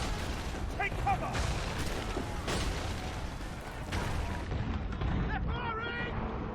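Gunfire and artillery in the Assassin's Creed 3 game, repeated heavy booms and shots sounding through a battle din, with voices shouting intermittently.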